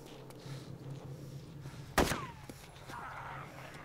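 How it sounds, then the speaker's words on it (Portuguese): A single sharp gunshot in the survival game DayZ Mod cracks out midway and trails off in a short echo over quiet game ambience. "Foi tu que atirou?"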